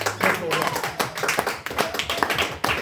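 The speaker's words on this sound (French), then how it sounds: "Est-ce qu'on peut l'applaudir par la grâce de Dieu?" A church congregation applauds, irregular claps from many people at moderate loudness, mixed with voices talking over the clapping.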